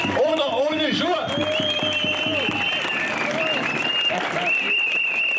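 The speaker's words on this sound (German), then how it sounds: "Applaus für ihn" Sustained crowd applause with cheering at a political speech by André Poggenburg in Gera, loud and steady throughout, with a voice speaking over the clapping in the first half.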